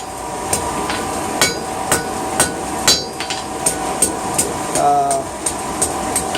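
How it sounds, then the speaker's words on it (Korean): Blacksmith's hammer striking metal in a fifty-year-old forge, a steady series of sharp, ringing blows roughly every half second, loud and close, with a brief scraping clatter near the end. "이런 그 망치 소리를 들으면서"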